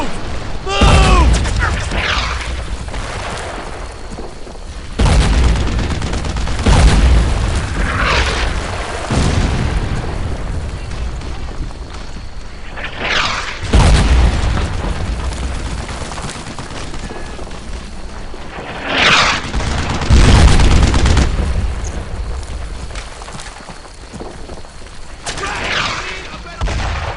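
Gunfire and explosions in the WWII shooter game Brothers in Arms 2, with heavy booms and bursts of shots at close range, mixed under shouted voices.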